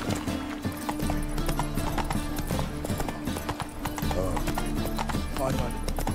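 Roach, a horse in The Witcher 3, trots with steady, rhythmic clip-clop hoofbeats that stay close and loud, mixed with an occasional whinny over game music, while someone talks throughout.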